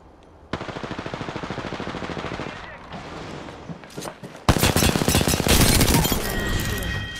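Rapid automatic gunfire in a video game shooter, a fast burst of close, loud shots followed after a brief lull by a denser, harsher volley, with speech mixed in.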